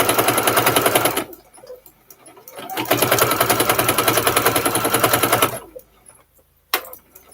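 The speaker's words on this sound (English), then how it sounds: "what's happening over here at the sewing machine" A sewing machine stitches in rapid, rhythmic bursts of loud mechanical clatter, stopping and starting with short quiet pauses and a faint click between runs.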